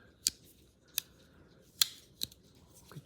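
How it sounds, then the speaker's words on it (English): Scissors on a multi-tool snip five times in an uneven rhythm, each a sharp, crisp click close by against a quiet background. "I think the scissors cut pretty well."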